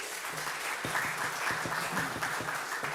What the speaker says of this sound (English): please no clapping, but you could wave in support